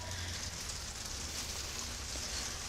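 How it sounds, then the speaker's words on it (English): Steady rain drums on a greenhouse roof in a dense, even hiss that fills the whole stretch, close and loud with no pauses and no talking. "Hopefully you can hear me fine over the top of the rain."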